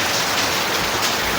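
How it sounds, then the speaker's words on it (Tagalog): Heavy rain pouring down outdoors, a dense, loud, continuous hiss of drops on surfaces that stays close and unbroken with no voices. "Malakas ang ulan eh."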